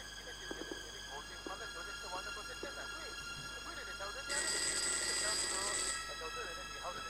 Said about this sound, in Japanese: 電話鳴った。